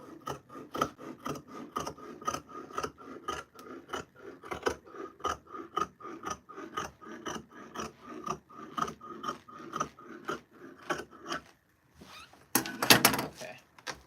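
Scissors cut fabric for sewing a Simplicity 8059 duster, a long run of rhythmic, rasping snips close to the microphone, fairly quiet and steady, ending after a brief pause with a louder rustle.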